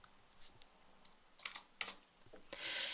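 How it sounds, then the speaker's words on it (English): A surname typed on a computer keyboard: a quick cluster of soft key taps, close and faint, ending in a brief louder rush of noise. "If you type Levitt in there"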